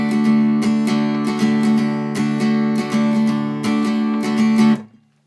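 An acoustic guitar strums a bouncy swing rhythm, loud and close with crisp repeated strokes, ending on a final chord that cuts off abruptly.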